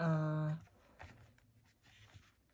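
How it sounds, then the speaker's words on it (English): After a brief hummed tone, a fountain pen scratches lightly across paper in short, faint strokes, quiet and close. "I don't seem to be writing fast with my"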